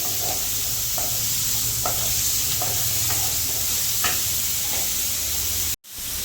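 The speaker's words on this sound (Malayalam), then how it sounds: "ഞാൻ ഈ വഴറ്റാനും കൂടെ സവാള അങ്ങ് ഉപയോഗിക്കും" Onions sauté in a pan in a home kitchen, giving a steady, close, loud sizzle with soft stirring scrapes at regular intervals. The sound cuts off abruptly near the end, and no one talks.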